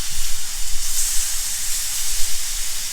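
Loin pork chops sear in a hot pan with a steady, close sizzling hiss that continues evenly throughout.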